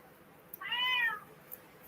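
A pet cat gives one clear, drawn-out meow at close range in a quiet indoor room.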